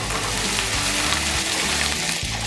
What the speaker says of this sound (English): Saute this till the raw smell of ginger garlic is gone.